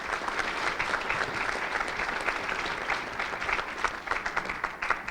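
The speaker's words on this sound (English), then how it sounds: "Let's give them another round of applause, please." Sustained applause from an audience at a legislative forum with senators, steady dense clapping filling the whole stretch with a few sharper claps toward the end.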